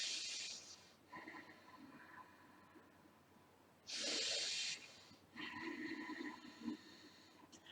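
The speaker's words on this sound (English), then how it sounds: "Rather like a gentle snoring or the sound of the ocean." Ujjayi yoga breathing, a throaty, constricted breath like gentle snoring or ocean surf, comes as slow, close hissing inhales and exhales in separate rounds, with quiet gaps between them.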